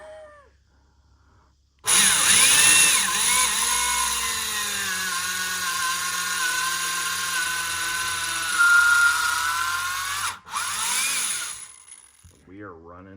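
A genuine Honda reamer run hard and well lubricated cuts valve seats and reams guides on a 1972 Honda CB750 cylinder head, a loud, steady whining grind for about eight seconds with quiet before and a clatter after.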